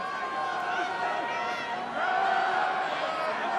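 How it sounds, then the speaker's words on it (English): A rugby crowd at a Dragons versus Munster United Rugby Championship match rises into a broad, sustained roar as the Dragons close in on a scoring chance, swelling louder partway through. "And the crowd waking up to an opportunity and getting it."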